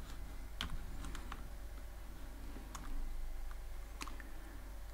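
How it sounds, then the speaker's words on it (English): Python code typed on a computer keyboard, quiet irregular clicks of key presses in short bursts over a low steady hum. "I'm gonna type here for I, and I'll type options."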